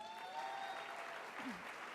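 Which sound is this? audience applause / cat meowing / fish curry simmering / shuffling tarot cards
audience applause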